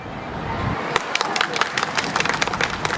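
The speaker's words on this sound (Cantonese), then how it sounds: "俾啲掌聲自己好冇？" Audience applause at an outdoor charity carnival wheelchair float parade in Hong Kong, scattered claps starting after a second and building into a steady patter beneath a windy background.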